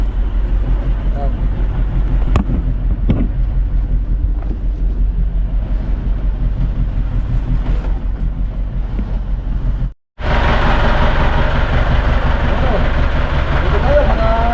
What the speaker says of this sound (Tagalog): Yung ating makina yan, tunod, palyado.